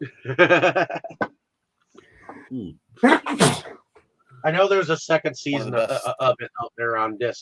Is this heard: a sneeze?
yes